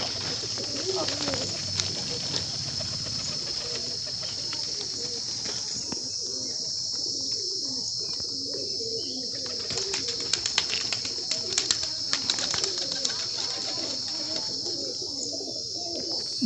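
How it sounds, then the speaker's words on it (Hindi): Madrasi high flyer pigeons kept in Amethi, Uttar Pradesh, coo in low, repeated phrases amid scattered chirps and a steady bright hiss, with faint voices murmuring in the background. "बेहतरीन नस्लों के कबूतर हैं भाई"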